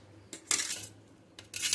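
Mango jelly being cut into small pieces for a summer sarbath drink, with two close, sharp clinks of a knife or spoon against a plate or bowl over a low steady hum.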